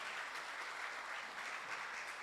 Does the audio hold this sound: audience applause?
yes